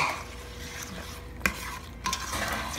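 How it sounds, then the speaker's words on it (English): Raisins and almonds are stirred into a batter mixture with a utensil, soft continuous scraping and swishing close by, punctuated by a couple of sharper knocks against the bowl. "I think we can now add raisins and almonds to be stirred in"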